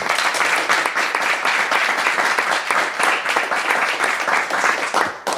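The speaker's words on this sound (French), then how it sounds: "Des applaudissements, ça me va." Live studio audience bursting into loud, sustained applause, dense clapping held evenly for about five seconds before tapering at the end.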